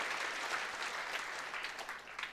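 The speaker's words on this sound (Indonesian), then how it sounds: "Oke, tepuk tangan yuk." Church congregation applauding during a pastor's sermon, a continuous moderate round of clapping from many hands, fairly even and unbroken for its short length.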